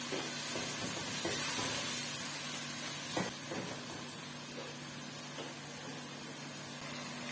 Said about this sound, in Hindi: अब इसके अंदर होममेड बिरयानी मसाला डाल दूंगी और मसाले को भून लेंगे